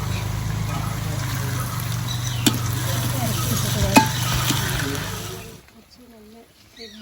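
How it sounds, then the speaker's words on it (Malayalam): Coriander leaves being stirred into gobi manchurian in a hot pan, a steady sizzle with scraping stirs and a few sharp utensil knocks before the sound drops away. "ഏറ്റവും ലാസ്റ്റായിട്ട് നമ്മൾ ഇതിലേക്ക് മല്ലിച്ചപ്പ് ഇട്ട് കൊടുക്കുകയാണ്."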